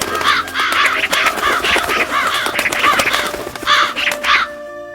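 Loud, close cawing of crows and magpies, repeated harsh calls in quick overlapping bursts with no talk, set as a sound effect.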